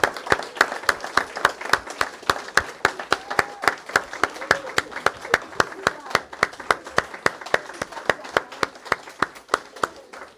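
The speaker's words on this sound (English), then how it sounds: "please, a big round of applause for all of our poets" Steady applause from a crowd for poets at a poetry slam, sharp rhythmic claps repeating throughout, fairly loud and close, with no talking over it.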